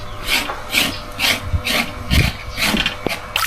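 Bark being dug and scraped from the wood of an edible tree, heard as a steady series of rhythmic rasping strokes, about two per second, close and moderately loud with no talking.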